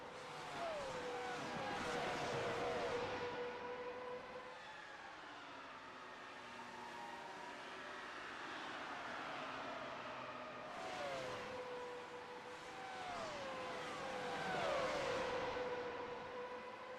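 Race car engines whining through traffic in a racing video game, several cars rising and falling in pitch as they rev and shift, a steady, moderately loud pack with repeated upward sweeps and no talk.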